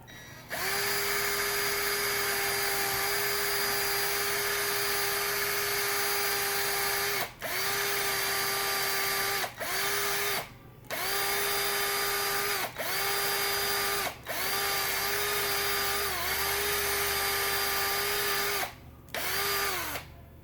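A motorized wheel whines steadily at high speed, its hum briefly dropping out several times as it is stopped and restarted, close and loud.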